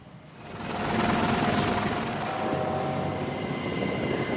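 US military helicopter hovering above the Iran-flagged oil tanker MT Celestial during a maritime interception, a steady loud rotor and engine drone that rises in the first second and holds, alone without voices.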